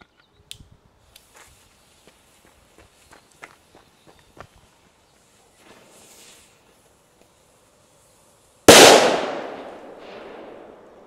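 Klasek Dum Bum 2G+ firecrackers, small crackling pops and sparks from a fuse, then one sharp loud bang that rings out and fades.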